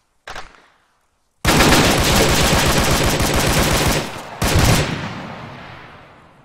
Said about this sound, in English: Who got done by the machine gun as well?